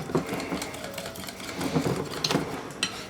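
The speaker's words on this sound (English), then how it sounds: "mix up this batter" Corn fritter batter made with beer is stirred in a bowl, giving irregular soft scraping and tapping strokes that come close together and at fairly even loudness.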